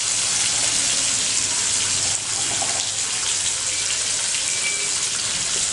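Capsicum pieces tossed into hot oil for an Andhra-style fry, giving a steady, loud hiss and sizzle that holds unbroken throughout with no talking.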